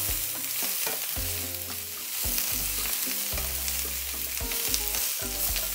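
Vegetables stir-fried in a pan, stirred often so some bits char, with a steady sizzle under repeated scraping and clanking of the utensil against the pan, close and continuous with no talking.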